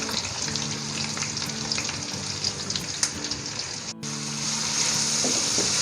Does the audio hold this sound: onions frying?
yes